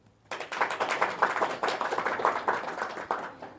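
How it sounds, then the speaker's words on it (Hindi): An audience clapping at a spiritual talk on yoga, a sudden burst of dense applause that starts abruptly and holds steady for a few seconds, fairly near and with no talk over it. "ताली तो बजाओ।"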